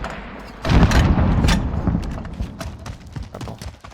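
Rocket strike explosions in Call of Duty Warzone: a heavy boom erupts after a short lull, followed by sustained rumbling blasts and crackling debris that fade gradually.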